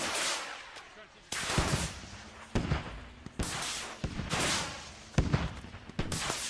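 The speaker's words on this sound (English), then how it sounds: "shots are going out. He's firing them good" Gunfire in the military shooter Squad rings out in repeated loud bursts and single cracks, close and echoing, with radio-style voices talking between the volleys.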